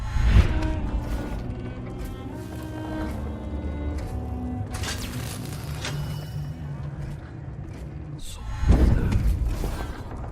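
Machinery running in the game Dishonored 2: a steady whirring, creaking and ratcheting of gears, with heavier thuds near the start and again near the end.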